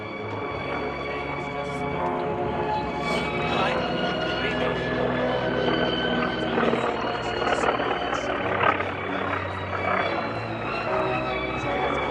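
An aerobatic airplane rolling during a military base open house airshow drones steadily with a propeller engine hum, fairly distant, under a public-address announcer talking throughout.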